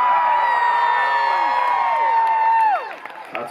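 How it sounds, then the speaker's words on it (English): A concert crowd at The Depot in Salt Lake City cheers, whoops and whistles for the band, loud and sustained with shrill rising and falling whistles, then fades to scattered shouts. "There should be a bigger cheer for you two."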